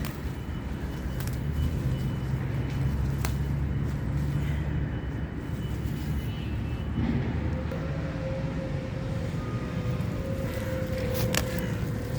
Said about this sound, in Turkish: İstanbul'da inşaat sesleri, yoldan geçen arabaların sesleri